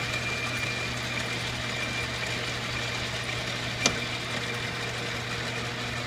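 A small engine runs steadily at speed with a constant, even drone and a faint hum; a single sharp click interrupts near the end.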